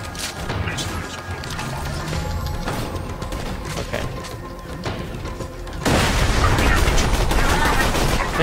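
Enemies fire at the player in Borderlands 2, a loud, dense clatter of game gunshots and booms that turns heavier toward the end, with voices talking underneath.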